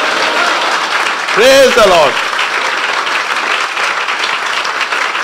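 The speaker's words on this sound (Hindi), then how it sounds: "यीशु के जलाल के लिए जोरदार तालियां।" A church congregation at a Resurrection Day service applauds in a loud, sustained wash of clapping that runs the whole stretch, with a voice briefly calling out over it.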